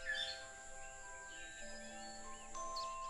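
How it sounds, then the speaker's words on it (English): Sri Lankan blue magpie calling in a rainforest, a few thin chirps and whistles over a faint hum of insects, quiet and somewhat distant. "The rare Sri Lankan blue magpie."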